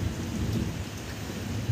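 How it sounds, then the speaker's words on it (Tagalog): Heavy rain pours steadily with low rumbling thunder underneath, a dense continuous wash heard at moderate level with no one speaking. "Lakas pa ng ulan."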